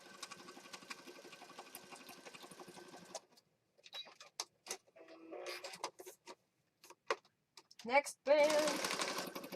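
A sewing machine stitches down a band on a lucky clover junk journal in a steady, close run of about three seconds, followed by scattered handling taps and a brief spoken remark.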